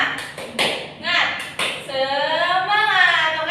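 A classroom does a rhythmic 'tepuk semangat' clapping routine, with a few short, crisp claps spaced in a pattern and then a voice that carries on talking.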